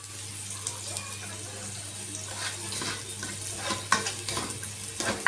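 Small chopped onions fry in a pan with a steady, close sizzle and hiss, while a utensil scrapes and stirs them in occasional clinks, and no voice is heard.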